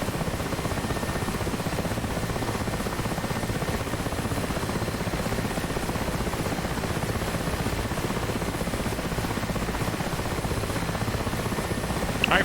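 An Mi-8 helicopter's rotor and engines drone steadily in a flight simulator during heavy lifting in a snowstorm, a constant dense beating hum heard close and alone.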